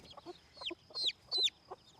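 Silkie chickens cluck in short bursts, with a few louder rising squawks standing out; close by, no talking.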